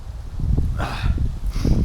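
Autumn wind buffets the microphone on Hullvann Lake in Norway during a canoe outing, with low gusty rumble and two brief hissing swells, close and fairly loud.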